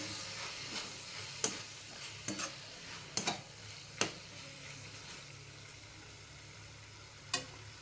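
Guar bean bhaji being stirred in a pan with peanut powder, a faint low sizzle broken by a few sharp scrapes and knocks of the spoon against the pan.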